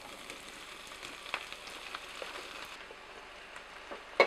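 Garlic and onion fry gently in a pan with a soft, steady sizzle and faint crackles. A few brief pops stand out near the end, and nobody speaks.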